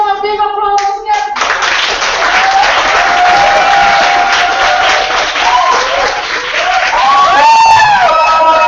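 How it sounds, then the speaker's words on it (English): A crowd claps at a startup weekend event in Tokyo, with loud, dense applause from many hands after a brief tone. Some voices are faintly mixed in, and a few pitched tones sound near the end. "give them a big applause"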